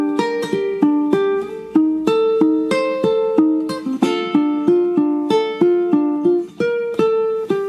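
A ukulele plucks a melody on the first three strings. Quick, bright single notes come in a steady, rhythmic pattern, close and clear, with no talking.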